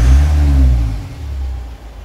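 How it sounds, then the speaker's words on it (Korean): A car engine revs up sharply as the accelerator is pressed during a rail-pressure check for a sudden-stalling fault, loud and close, then settles back to a steady idle. "제가 가속페달 한번 밟아 볼게요"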